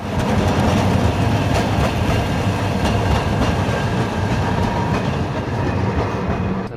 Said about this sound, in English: You can hear all the old trams.